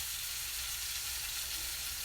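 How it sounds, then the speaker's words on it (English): Hamburger meat sizzles in a frying pan with a steady, even crackling hiss, close and moderately quiet, unbroken and without speech. "I have hamburger meat frying."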